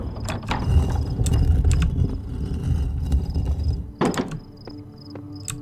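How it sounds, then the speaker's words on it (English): Heavy stone shifts and grinds somewhere in The Talos Principle, a run of mechanical thunks and scraping clunks with sharp clicks, ending in a louder knock, and nobody speaks. "I heard something stone moving somewhere."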